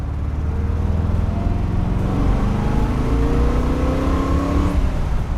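A 1975 Corvette engine runs steadily and close by, a loud continuous rumble with a gentle rise in revs partway through and no talking.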